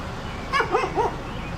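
A dog outdoors near an old church along the Genesee Valley Canal lets out three quick yipping barks at middle distance over a steady background hiss.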